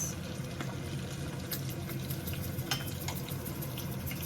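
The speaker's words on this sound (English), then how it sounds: "I'm just gonna add in onions, saute these onions" Onions sauté in oil in a pan with a steady, soft sizzling crackle, close by and continuous, with occasional sharper pops and stirring scrapes.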